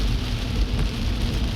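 Heavy rain with strong wind pours down steadily outdoors during the rainy season, a dense, continuous wash of noise with no pauses and no voices.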